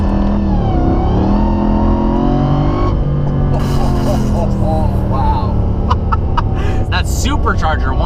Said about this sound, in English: from inside, that supercharger whine's ridiculous